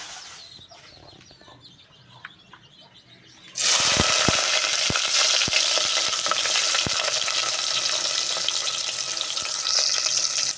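Ingredients drop into hot oil in a wok and erupt into a loud, steady sizzle after a quiet start, with a few sharp clinks and scrapes of stirring over the frying.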